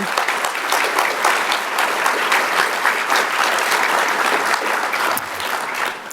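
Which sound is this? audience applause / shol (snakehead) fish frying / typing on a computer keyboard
audience applause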